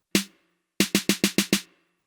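A single snare hit in a hip hop drum mix, a pause, then five quick evenly spaced snare hits, each with a bright, short plate-style reverb tail.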